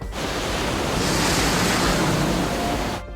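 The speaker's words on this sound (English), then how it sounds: "leaving him at the mercy of 30-foot waves and gale-force winds" Rough open sea with 30-foot waves under gale-force wind roars as a loud, steady wash of surf and wind noise, continuous and close, with no voices.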